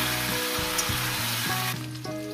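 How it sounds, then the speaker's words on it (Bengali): Flat beans frying with potatoes in a pan, giving a loud, dense, continuous sizzle with no talking. "এই শিমগুলো দিয়ে আরো 3 থেকে 4 মিনিট আমি এটাকে আলুর সঙ্গে ভেজে নেব"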